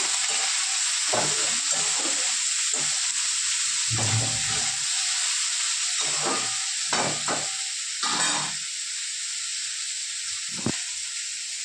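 Onions sizzle steadily in a hot pan, a continuous frying hiss broken by occasional stirring scrapes, close and loud.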